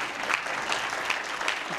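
Brief applause from a church congregation at a youth Sunday service, a steady patter of many clapping hands that carries on without a pause.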